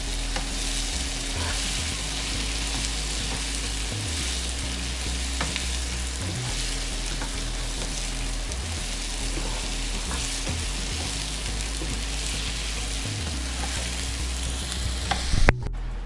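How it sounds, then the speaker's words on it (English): Sliced potatoes sauté and sizzle in a hot pan with a steady, dense frying hiss, and occasional scraping strokes as they are stirred. "we are going to stir up our potatoes, give that a stir"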